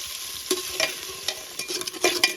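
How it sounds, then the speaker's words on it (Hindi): Onions frying and being stirred in a pan for a Kashmiri meat dish, with a steady close sizzle broken by repeated scraping stirs, about five or six louder bursts, and no talk. "अब ये जो प्याज है इनको हम अच्छे से फ्राई कर लेंगे।"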